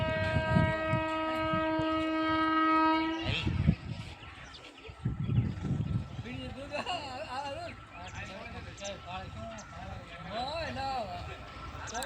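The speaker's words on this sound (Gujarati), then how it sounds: "દેખો ગાડી આવી ગઈ." A train arriving, its long sustained horn blast ringing out loudly at first, followed by rumbling and clatter as it rolls in while people talk excitedly nearby.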